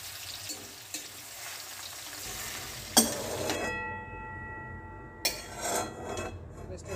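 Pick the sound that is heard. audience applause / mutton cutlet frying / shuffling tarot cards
mutton cutlet frying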